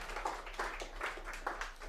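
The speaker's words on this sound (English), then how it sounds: "Please give a round of applause to Mike Bocchinfuso grabbing the board" A small audience gives a round of applause for Mike Bocchinfuso, a community leader in Queens: faint, distant clapping in loose rhythmic bursts, with no voices over it.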